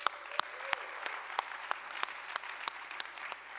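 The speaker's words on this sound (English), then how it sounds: "give a huge round of applause to our first timers" Audience at the React Conf 2025 conference applauds with distinct, loosely spaced claps at steady volume, a smallish-sounding patter rather than a dense roar.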